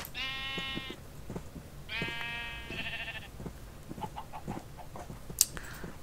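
Blocky sheep in Minecraft bleat in two clear, harmonic calls near the start and middle, followed by softer clucking fowl-like sounds and small game noises, with no talking.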